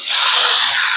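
A power drill boring screw holes in a 2x4 wood piece for a shave horse build, giving one loud close steady high-pitched whine for about a second with no voice.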